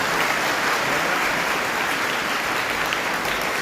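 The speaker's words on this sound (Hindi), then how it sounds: "जोरदार ताली होनी चाहिए।" An audience at a gathering of job-holding freshers, many of them women, applauds loudly and steadily, a dense continuous clapping that fills the whole stretch without pause.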